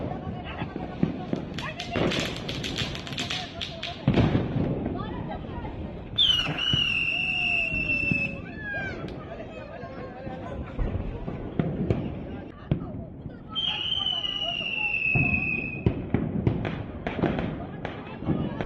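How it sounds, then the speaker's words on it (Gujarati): Diwali firecrackers pop and bang repeatedly in the distance across Bhavnagar city, with whistling rockets rising twice, while a voice talks over the festive noise late at night. "લોકોએ મોડી રાત્રિ સુધી ફટાકડા ફોડીને ઉજવણી કરી હતી"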